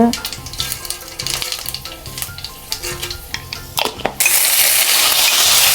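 Mustard seeds, fennel and fenugreek crackle in hot oil for a Jaffna dried-fish curry, with sharp popping bursts that turn into a steady, loud sizzle near the end.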